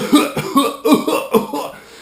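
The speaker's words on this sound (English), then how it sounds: "I'm coughing, because I've had a cold" A burst of several rapid, harsh coughs from one person with a cold, close and loud, in quick uneven succession.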